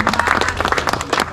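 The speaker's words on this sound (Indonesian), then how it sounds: "Tepuk tangan untuk Mas Ari." A brief burst of crowd applause at a groundbreaking ceremony for a parsonage, many hands clapping together loudly and close for about a second.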